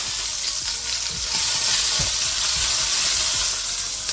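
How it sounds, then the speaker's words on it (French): Ham hocks searing in hot oil, a dense, loud, close sizzle that holds steady, with occasional low knocks and stirring underneath. "Il faut les laisser saisir environ 4 à 5 minutes."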